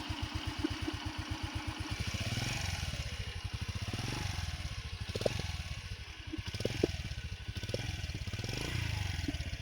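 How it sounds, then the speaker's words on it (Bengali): A Yamaha YBR motorcycle with a faulty silencer, its engine freshly refitted, idles with a quick even thump that picks up into revs, rising and falling several times, close and fairly loud. "বাট ইঞ্জিনের সাউন্ডটা কিন্তু অনেক সুন্দর আছে"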